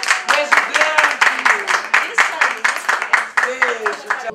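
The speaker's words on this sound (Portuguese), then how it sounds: "Vamos aplaudir, que a Cida merece." Guests at a birthday party clap in a steady, even rhythm of about four beats a second, close and lively, with voices sounding over the clapping.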